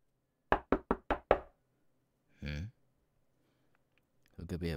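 Five quick knocks on a wooden door, close and crisp in an otherwise quiet room, followed by a short burst of sound and then a voice beginning to speak.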